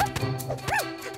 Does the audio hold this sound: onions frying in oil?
no